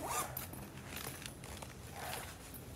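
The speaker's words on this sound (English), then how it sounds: "It just zips open." The zipper on a Gruv Gear Karbon Edition stadium bag is pulled open in a few quick, close, ripping strokes, with short pauses between pulls.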